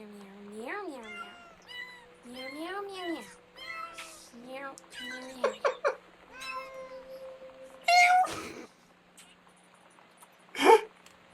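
A cat in the video game Gone Home meows repeatedly in short, rising-and-falling calls, a series of distinct mews with a couple of sharp noisy bursts near the end.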